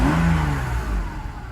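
A Mercedes SL600 engine revs up under acceleration, a close, steady rising roar with no talking over it.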